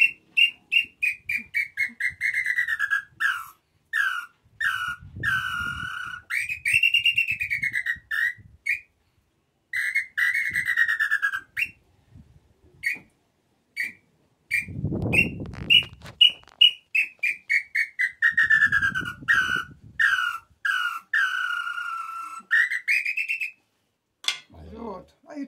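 A handheld bird-call whistle imitates the throat sound of the red-footed tinamou, giving a long series of close, loud whistled notes, some sliding and some in rapid repeated bursts, with a few low thumps in between.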